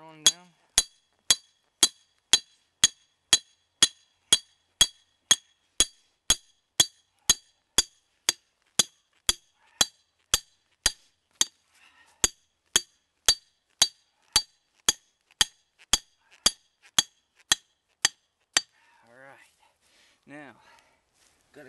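A hammer drives down a coyote trap set outdoors in a steady run of about thirty sharp metallic strikes, evenly spaced and close, with a brief pause midway; rustling and shuffling follow the last blow.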